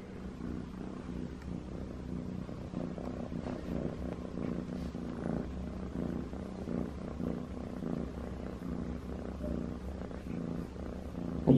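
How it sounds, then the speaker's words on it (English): A female cat held in a shelter cage purrs close up, a steady rumbling motor that runs continuously with no talking. "I just want you to hear how much she purrs and how loving she is"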